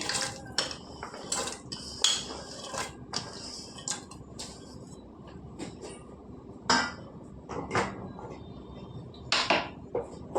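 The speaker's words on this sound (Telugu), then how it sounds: "ఈ ముక్కలన్నీ ఇందులో వేసుకుందాం పప్పులోకి" Chopped raw mango pieces clatter into a pot of dal, with sharp metallic knocks and clinks of a utensil against the pot in scattered bursts at close range, no talking.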